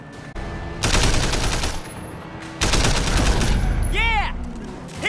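Heavy gunfire in Sleeping Dogs during a car chase, loud dense bursts of automatic fire rattling almost continuously under engine roar, with voices shouting over it.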